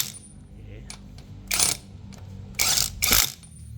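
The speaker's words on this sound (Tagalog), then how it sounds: "Ang laking bagay ng impact wrench." A Bosch GDX 18V-285 cordless impact wrench tightens lug nuts on a Toyota car tire during installation, giving three loud, harsh hammering bursts (one short, then two longer ones close together) over a low background hum.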